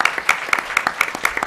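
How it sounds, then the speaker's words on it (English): Applause from an event audience as a speaker is welcomed, a fairly close, moderately dense patter of claps with a few sharper individual hand claps standing out. "Let's give her a round of applause"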